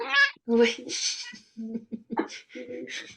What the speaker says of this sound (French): désolé, c'est mon chat